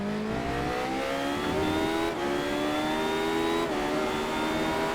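Radical race car at Spa accelerating out of a corner, engine note climbing steadily in pitch with brief dips at upshifts, loud and close throughout with no talk.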